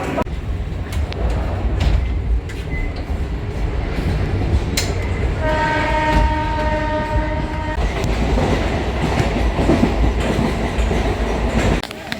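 A train at platform 2 of Bidhannagar railway station, on a route toward Habra, rumbles loudly and steadily throughout, with a sustained horn blast of about two seconds midway.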